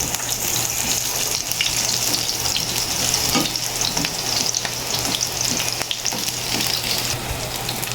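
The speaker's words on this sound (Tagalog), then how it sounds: "Yan, lagay na po yung bawang. Ilagay na rin po yung" Garlic and onion fry in a hot pan for a soup, giving a dense, steady sizzle with faint stirring scrapes throughout, close and fairly loud, with no voices.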